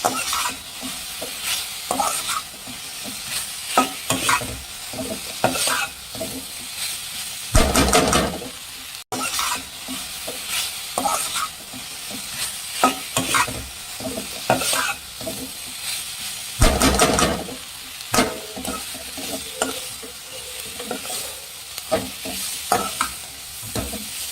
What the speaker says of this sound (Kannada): ಹೈ ಫ್ಲೇಮಲ್ಲಿ ಇಟ್ಕೊಂಡು ಚೆನ್ನಾಗಿ ಕೈ ಬಿಡದೇನೆ ಚೆನ್ನಾಗಿ ಮಿಕ್ಸ್ ಮಾಡ್ಕೊಬೇಕು